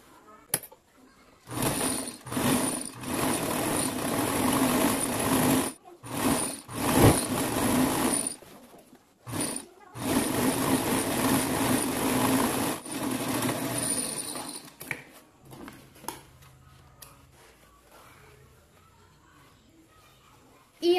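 A sewing machine stitches the hem of a pair of overalls in long steady runs of rapid mechanical whirring, broken by short pauses, then stops, leaving quiet handling sounds.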